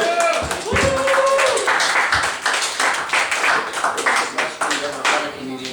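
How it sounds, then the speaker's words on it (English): Audience applauding a comedian at the Tabernacle, a hedonism-themed comedy show: dense, loud clapping fills the room throughout, with scattered cheers and voices mixed in. "Give a round of applause, ladies and gentlemen."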